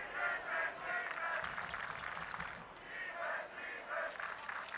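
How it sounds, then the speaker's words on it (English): A crowd at a high school boys lacrosse championship game cheers and shouts in rising and falling waves, fairly distant and moderately loud. "So nice to hear crowd noise at an actual game, isn't it?"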